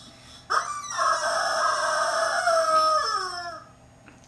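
A rooster crows once as a sound effect, a loud, close, drawn-out cock-a-doodle-doo that holds steady and then trails off, with no talking.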